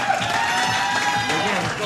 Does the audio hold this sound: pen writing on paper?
no